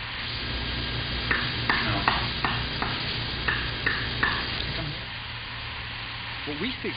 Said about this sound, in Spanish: los antiguos egipcios insertaban un gancho largo y lo agitaban como si estuviesen batiendo nata